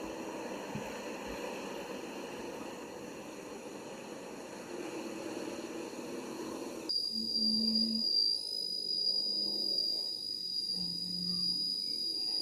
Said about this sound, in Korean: 벌레 소리.